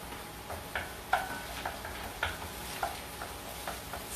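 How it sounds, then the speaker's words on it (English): Shrimp and onion frying in a pan for Portuguese Shrimp Mozambique, a soft, steady sizzle with a few light clicks and taps of a utensil against the pan, close and fairly quiet, with no talking. "So it's sizzling."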